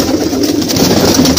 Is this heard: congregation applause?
no